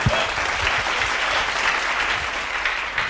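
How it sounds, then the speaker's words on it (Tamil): A congregation at a Tamil Christian sermon claps together, a sustained, close wash of many hands applauding across the whole stretch with a few heavier low thumps near the start. "கைத்தட்டு."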